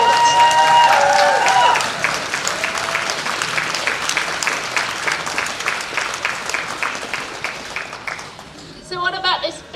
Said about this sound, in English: I'd like to give them a round of applause because they needed a lot of support